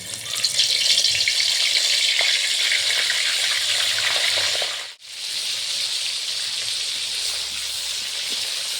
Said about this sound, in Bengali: আমাদের তেলটা গরম হয়ে গেছে, এবার আমরা ফুলকপিগুলোকে আস্তে আস্তে দিয়ে দেবো।